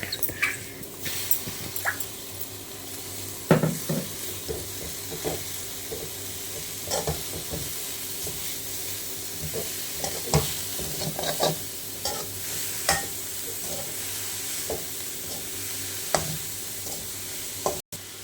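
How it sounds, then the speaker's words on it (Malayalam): Homegrown spinach stir-fried in a hot pan for a Kerala jackfruit-seed thoran, a steady sizzle broken by repeated scraping stirs and clinks of the spatula. "അതിനുശേഷം നമുക്ക് ചീര ഇട്ട് കൊടുക്കാം."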